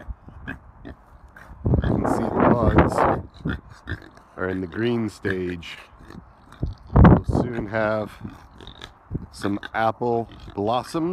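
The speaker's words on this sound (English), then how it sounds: "You can hear the pigs in the background." Pigs grunt and oink in the background of an apple orchard, low snuffling calls that come and go beneath someone speaking close to the microphone.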